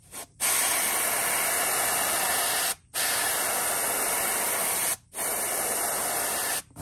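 An airbrush sprays paint onto a fishing lure in long steady hissing bursts separated by brief pauses, close and loud, while a worn-out compressor runs along with it.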